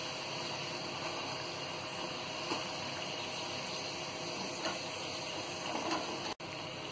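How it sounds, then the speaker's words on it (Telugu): Ragi flour kaarapu gavvalu deep-frying in hot oil, a steady close bubbling sizzle that holds evenly throughout with a brief clink near the end and no talk. "తిప్పుకున్న తర్వాత అటు సైడ్ కూడా బాగా వేయించుకోవాలి"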